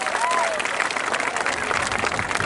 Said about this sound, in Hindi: तो एक बार जोरदार तालियां सीईओ साहब के लिए भाई